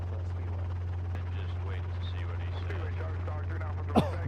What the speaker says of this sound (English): have helicopter flying in the background